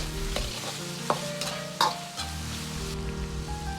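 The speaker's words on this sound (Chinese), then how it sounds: "继续翻炒均匀，炒出酱香味" Diced eggplant stir-fried in a wok with soy sauce, spatula scrapes and tosses over a continuous soft sizzle, close up with a few sharper metallic knocks and no talk.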